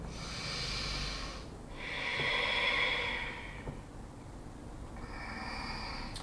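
Slow, steady breathing during a yoga flow, with two long hissing breaths swelling and fading over several seconds, close and fairly quiet, followed by a softer breath at the end.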